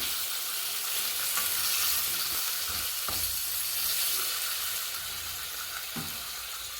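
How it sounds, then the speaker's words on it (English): Chayote steams and sizzles in a pan after water is added, making a steady loud hiss with a few soft knocks and stirring clunks and no speech. "we're just going to add in a little bit of water at this stage and help it steam"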